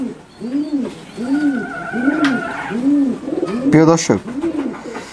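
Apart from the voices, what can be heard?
Nil Dumba pigeon cooing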